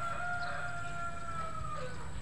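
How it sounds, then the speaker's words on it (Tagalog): A Shamo rooster, a cross of Dampo Shamo and Tanaka lines kept on a small farm, crows once in a long drawn-out call, close and clear over a steady background hum. "ipaflex ko lang ngayon yung aking mga Shamo"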